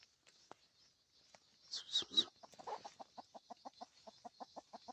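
A hen clucking at an abandoned chicken farm, faint and close, a couple of louder squawks followed by a steady run of rhythmic short clucks in an otherwise quiet setting.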